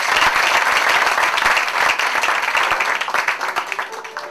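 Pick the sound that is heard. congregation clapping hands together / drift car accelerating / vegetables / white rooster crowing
congregation clapping hands together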